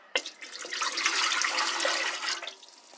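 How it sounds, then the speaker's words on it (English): Water poured into a bread machine pan for a gluten-free loaf, a close, continuous splashing stream lasting a couple of seconds before tapering off. "we're going to go ahead and add our water."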